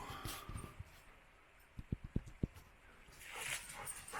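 A dog inside an old iron furnace gives a short run of four or five quick, sharp yips or barks near the middle, with faint background noise around them and no talk.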